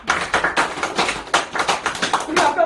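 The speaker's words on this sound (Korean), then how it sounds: "자 이럴 때 어르신들은 박수 이렇게 한번 주세요." A crowd of elderly attendees at a health seminar claps in a quick, steady burst of many hands, dense and close, with a voice audible in the mix.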